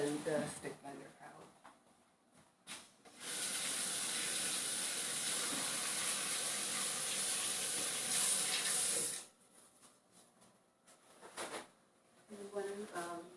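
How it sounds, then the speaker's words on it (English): A kitchen tap runs at full flow into a sink for about six seconds while hands are washed, a steady close hiss that starts and stops abruptly, with people talking before and after. "So I'm going to go wash my hands again and just focus on that"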